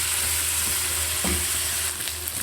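A large onion in thin slices with a sprinkle of black pepper fries with chicken for a chicken curry, producing a constant loud, close hiss and sizzle with a brief stir partway through.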